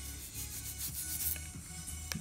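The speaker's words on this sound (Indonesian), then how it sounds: "terus digosok-gosok gini biar bersih" A brush scrubs a Casio G-Shock watch clean, working into the gaps and buttons with quick, close, steady rubbing strokes in a short continuous burst.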